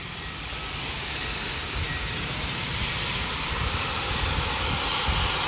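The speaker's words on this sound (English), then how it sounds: "Seems to be a steam-powered train. Here it comes." A steam-powered train at the Colorado Railroad Museum approaches a crossing, its broad continuous rumble and hiss holding steady and fairly loud throughout, with faint regular ticking above.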